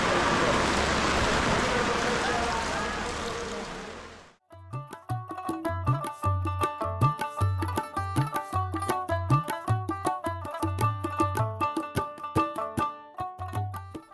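Heavy monsoon downpour roars steadily over a village market for a few seconds, then gives way abruptly to rhythmic music.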